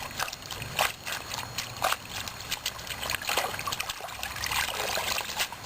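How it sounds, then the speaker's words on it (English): Water splashes and trickles as dandelion greens are swished and rinsed by hand, with irregular sloshing bursts and dripping close by. "we're going to put them in the water and rinse"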